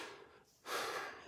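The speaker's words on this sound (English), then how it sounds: "I'm having trouble breathing right now" Labored breathing from a person recovering from cancer surgery, a close, breathy rush of air that dips briefly and then surges into a louder, sustained noisy exhale, with no talking.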